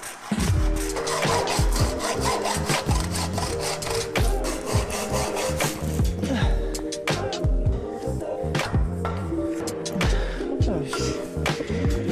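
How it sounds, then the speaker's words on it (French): Wooden profiles are sawn to length to make cabinet legs one metre tall. Rapid back-and-forth sawing strokes sound loud and close, rasping continuously in an even rhythm from start to finish. "je vais les scier à 1 mètre de hauteur"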